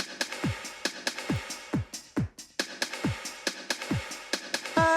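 Drum kit playing a steady beat in a live studio session, with punchy low kick thumps and snappy hits repeating in a driving rhythm, close and loud, with ringing cymbal wash throughout.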